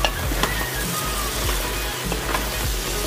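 Eggplant and other vegetables fry in a pan with a steady, dense sizzle that stays close and even throughout, broken only by faint crackles, with no voices.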